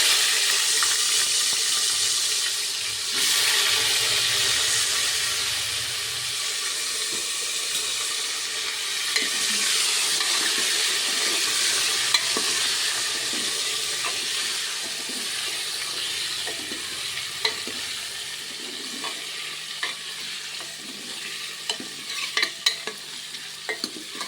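Potatoes frying with curry leaves in hot oil in a pan for Kathiyawadi-style brinjal potato curry, a continuous sizzle with repeated scraping stirs and spoon clicks that grow busier near the end.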